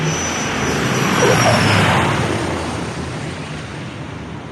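An Air Tractor fire bomber airplane coming in to land, its engine droning loud and steady at close range, swelling slightly and then easing off, with no voices.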